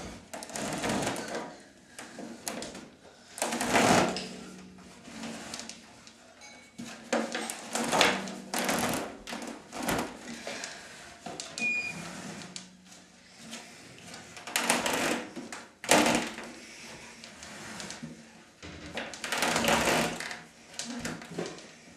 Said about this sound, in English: Now I'm going to tighten it.